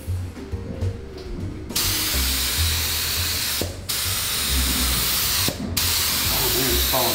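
An object is spray painted before hydro dipping, the aerosol can hissing in long continuous bursts with two brief pauses between them, close and loud over a low background.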